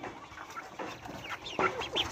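Rhode Island chickens clucking at close range on a farm, a quick run of short, scattered clucks and squawks, some overlapping, over a low background murmur.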